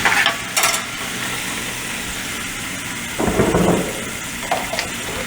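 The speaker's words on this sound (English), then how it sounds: "We're gonna stir fry that in here first." Sofrito sizzles and crackles steadily in oil in a pan, with a few brief scraping stirs and clinks of a spoon against the pot.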